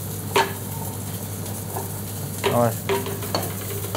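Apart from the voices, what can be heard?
olive oil heating in a saucepan, searing chanterelle mushrooms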